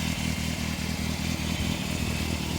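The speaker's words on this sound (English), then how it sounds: "You can tell from the engine note that it's a 600" A 1998 Yamaha Thundercat YZF600R 600cc sport bike engine runs steadily nearby with a rhythmic, pulsing idle and light mechanical clatter, fairly loud and alone without talk.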